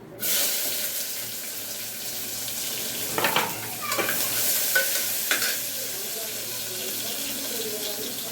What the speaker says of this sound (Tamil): கொஞ்சம் கடுகு போட்டுக்கலாம் இதோட கொஞ்சம் கருவேப்பில அவ்வளோதான் இதை போட்டுட்டு இப்போ வெங்காயமும் சேர்த்துக்கலாம்